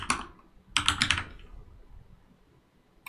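Computer keyboard being typed on, a short burst of clicks followed by a second quicker burst of several keystrokes, close and fairly quiet, then a single key tap at the end.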